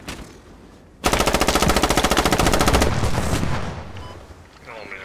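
Machine gun fire in the military shooter Squad: a loud, rapid, unbroken burst of shots lasting almost two seconds, close by, followed by fading rumble.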